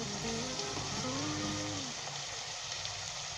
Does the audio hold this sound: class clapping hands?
no